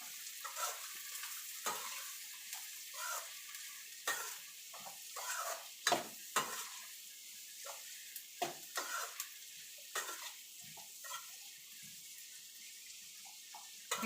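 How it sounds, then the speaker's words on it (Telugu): Onion frying in a pan for egg bhurji, a soft continuous sizzle broken by repeated scraping stirs of a spatula, close and fairly quiet. "ఇదిగోండి ఆనియన్ అయితే బాగా ఫ్రై అయిపోయింది కదా."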